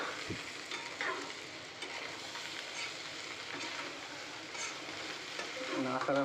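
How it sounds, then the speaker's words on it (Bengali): Spiced catla fish and potato curry is stirred in a frying pan, a soft continuous sizzle with scraping spoon strokes against the pan, fairly quiet and close, with no talking over it. "মশলাপাতি দিয়ে ভালো করে নাড়াচাড়া করে দেও।"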